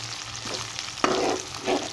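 Green chillies and garlic fry in a pan with a steady, close sizzle and a brief clatter of stirring partway through.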